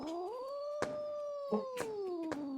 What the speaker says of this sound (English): angry cat noises. Angry cat noises.